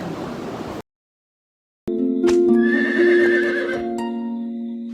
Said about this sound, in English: The hunter sighed and stopped the horse.